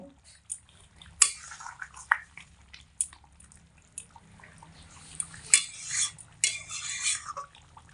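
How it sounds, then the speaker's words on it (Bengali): A fish and giant taro curry gets a light stir with garam masala in a pot, a ladle scraping and clinking against the metal in irregular strokes with gentle bubbling between them. "গরম মশলা দিয়ে হালকা একটু নেড়ে চেড়ে তরকারিটা আমি এবার নামিয়ে নেব"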